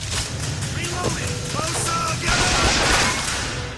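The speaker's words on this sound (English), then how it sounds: "let's try the crank gun" Rapid automatic gunfire from the crank gun in BioShock Infinite on PS3, a dense continuous burst of shots with crashing game effects, loud and sustained throughout.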